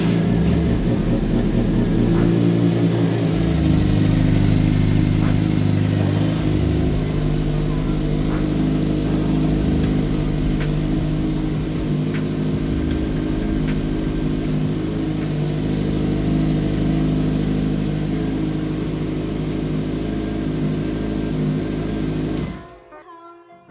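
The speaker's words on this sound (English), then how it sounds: "So let's go ahead and start it up." A Suzuki GSXR 600 motorcycle engine runs steadily at idle for over twenty seconds, a loud, even mid-pitched drone with slight rises in revs early on, before cutting off abruptly near the end.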